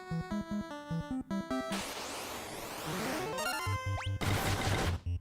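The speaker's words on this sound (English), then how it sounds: "Every time I hear the block sound effect," Retro Final Fantasy video game audio: a chiptune jumble of bright square-wave beeps, a rising sweep and a dense burst of effects, with a rapid blip pattern near the end, loud and without talk.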